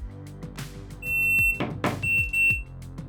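A shooting timer app on a phone emits its starting beeps, two sharp high electronic tones of about half a second each, repeated once, alongside some soft handling and knocking noises.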